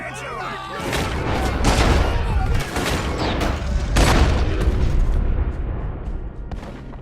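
Gunfire in Red Dead Redemption 2, with repeated sharp shots and booming blasts cracking through a chaotic shootout for several seconds, loud and close, with shouted voices mixed in.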